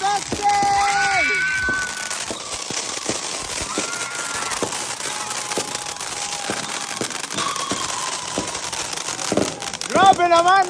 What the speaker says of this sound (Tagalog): Maraming ang nakahanda na fireworks sa labas ng bahay nga sila nanood.